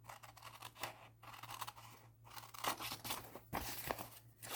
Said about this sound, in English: I'm going to take these scissors, and I'm going to cut this along this way.